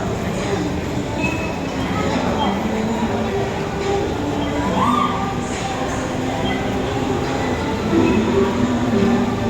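Steady rumble of an LRT light rail train in motion near Baclaran Terminal Plaza, a continuous rolling roar with faint wheel squeals and a brief murmur of voices underneath.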